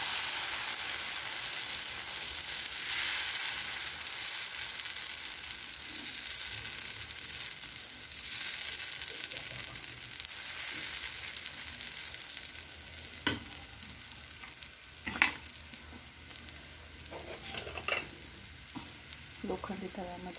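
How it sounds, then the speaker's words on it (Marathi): Dosa batter sizzles on a hot iron tawa with a steady, soft frying hiss that runs throughout, broken by a few sharp clicks and scraping taps toward the end. "तर मी आता लोखंडी तव्यामध्ये डोसा लावणार होते."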